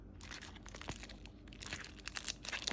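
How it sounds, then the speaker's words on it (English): Soft, close crinkling and rustling of a plastic bag as a Louis Vuitton mini agenda cover is unpacked, with quiet irregular crackles that grow slightly sharper toward the end and no talk. "So let's take this out of plastic bag."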